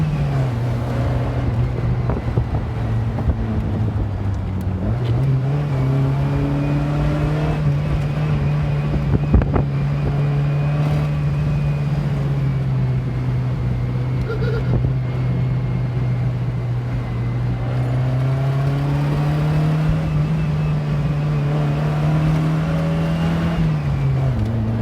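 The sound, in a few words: small car driving and accelerating on road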